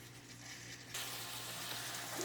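Tomato sauce with onions and spices simmers in a pan for shrimp fra diavolo, a faint, steady sizzling bubble that grows slightly denser partway through.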